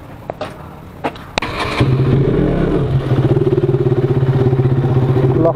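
A motorcycle engine coughs through a few short clunks, then catches and idles nearby with a steady, rapid putter that rises briefly before settling, loud and alone.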